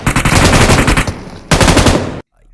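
Rapid machine gun bursts in the battle royale game BGMI, two loud close volleys of evenly spaced shots with a brief pause between, ending abruptly.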